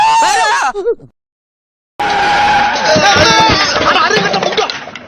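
A car braking hard with its tires skidding: a loud, sustained screech that bursts in after a short vocal phrase and a second of silence.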